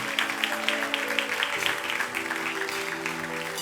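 A church congregation applauds and cheers together, steady crowd clapping held at an even level with a sustained tone and a few voices underneath.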